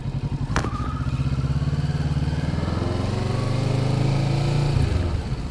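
Kawasaki Ninja 650 motorcycle engine pulls away and revs up near Griffith Observatory, a close, buzzing throbbing note that climbs steadily in pitch, then eases off at the end.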